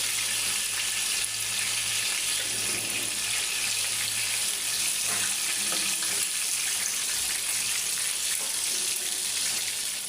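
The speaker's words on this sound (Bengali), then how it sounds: "আমি আর কিছুক্ষণ ভাজি করে নেব চিকেনটা" Chicken frying in ghee for a restaurant-style chicken fry, a constant dense sizzle and hiss, close and loud, holding evenly throughout with no voices.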